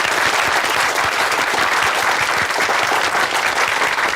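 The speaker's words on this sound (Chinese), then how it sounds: "掌声欢迎！" A crowd gathered for a holiday celebration breaks into loud, dense applause to welcome arriving guests, and the clapping stays steady and close for several seconds.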